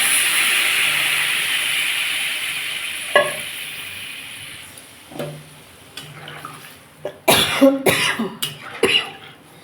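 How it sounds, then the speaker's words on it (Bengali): Water poured into a pan of sizzling Bengali bata fish curry with potato and papaya, a loud steady hiss that fades, followed by bubbling and several sharp clatters and splashes close by. "আমার কষা হয়ে গেছে আমি এর মধ্যে জল দিয়ে দেবো"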